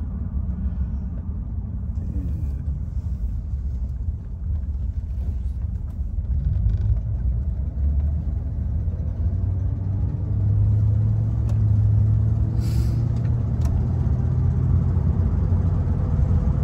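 Engine rumble from a vehicle driving along. The low, steady drone is close and constant throughout and swells slightly in the second half.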